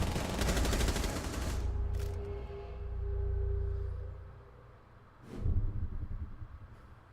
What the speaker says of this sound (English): get gunned down by Default with SMG 11